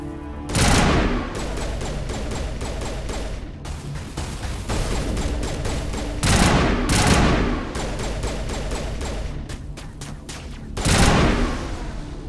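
Assault rifle fire in the Mass Effect video game: loud, rapid bursts of automatic shots, each burst a dense rattle, with heavier booms at the start of several volleys.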